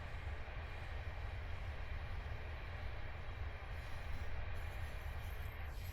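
A long Union Pacific freight train hauling many cars rumbles past steadily, a broad continuous roar with no gaps across the whole stretch, heard outdoors from a trackside spot.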